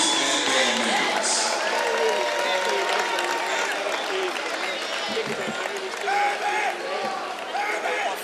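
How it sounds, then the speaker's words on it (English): Stadium crowd at a Golden Lions versus Jackson State football game applauding and cheering loudly for the starting athletes, cheerleaders and band members, a dense sustained roar of clapping with scattered voices throughout. "let's have a huge round of applause for all of our starter athletes, cheerleaders, and band members"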